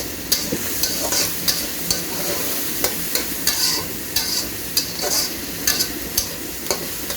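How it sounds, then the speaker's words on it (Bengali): Shrimp fry in hot oil in a home kitchen, giving a continuous sizzle broken by repeated clicks of stirring, close and steady with no talking. "চিংড়ি মাছটা ভালো করে তেলে ভাজা নিতে হইব।"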